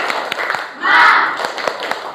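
A classroom of schoolchildren doing a rhythmic spirit clap, a run of sharp hand claps with a swell of group voices chanting in the middle, close and fairly loud.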